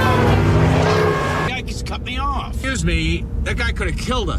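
A car engine roars loudly as a vehicle swerves in to overtake another car in a film scene, a sustained rising drone that then gives way to voices talking.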